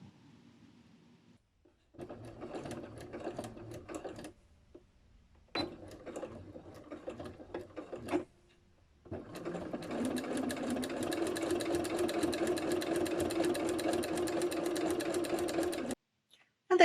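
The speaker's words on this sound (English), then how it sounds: "I have installed my walking foot on the machine and I am also using a ballpoint needle." A sewing machine fitted with a walking foot and ballpoint needle stitches a pocket on knit jumper fabric, running in short bursts, then a long steady whirring run, with pauses between.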